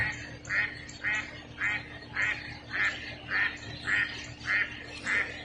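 A 3D-printed duck call blown in a steady series of about ten evenly spaced quacks, fairly close and clear over a low background hum, with no talking.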